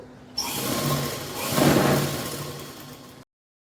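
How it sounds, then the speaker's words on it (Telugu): A sewing machine stitches through a doubled door mat in one steady whirring run of about three seconds, close and loud, rising slightly midway before stopping abruptly. "ఇదిగోండి ఇక్కడ నుంచి కొద్దిగా వదిలేసుకొని స్టిచ్ చేస్తున్నాను"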